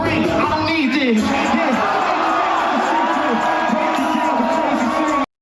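A crowd at a live freestyle rap show cheers and whoops loudly and continuously, a roaring wall of shouts and applause that holds steady for several seconds before cutting off abruptly.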